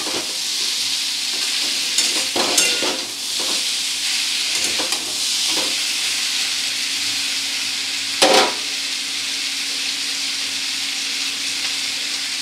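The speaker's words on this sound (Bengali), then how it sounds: "এবারে সবগুলোকে একসাথে খুব ভালো করে ভেজে নেব।" Small chuno fish frying together over a high gas flame, giving a steady, loud sizzle and hiss with occasional scraping stirs and clatters throughout.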